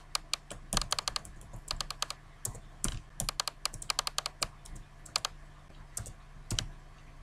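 Computer keyboard typing in quick bursts of sharp clicks with short pauses, close and fairly quiet, with no voices.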